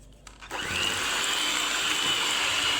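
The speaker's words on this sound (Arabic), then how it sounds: "نخدمو مليح بالباطور ونعاودو نوليو" An electric hand mixer whirs steadily at high speed, beating egg yolks for a shortbread dough, starting after a brief quiet moment and then running continuously and loudly.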